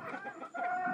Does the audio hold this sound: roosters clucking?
yes